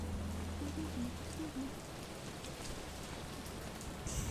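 Heavy video-game rain pours steadily throughout as a dense, even hiss with a low rumble beneath, a few faint tonal blips early on, and no voices over it.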